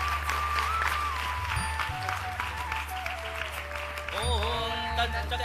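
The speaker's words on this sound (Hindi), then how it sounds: "हम सभी तालियों के नाद से" Crowd applause at a birthday celebration for a spiritual leader in Porbandar, a moderate steady clapping beneath sustained musical tones and a low hum, with some voice-like sounds mixed in.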